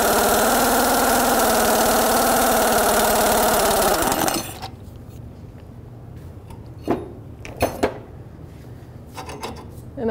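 An air impact gun rattles loudly on a 2007-2017 Jeep Wrangler lower control arm bolt for about four seconds, then stops, leaving a quiet workshop with a few sharp metallic clanks.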